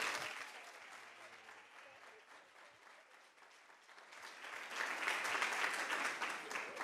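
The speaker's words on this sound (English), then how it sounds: "Please give yourselves a round of applause." Continuous crowd applause at a business gathering, dipping slightly in the middle and then swelling louder and fuller toward the end.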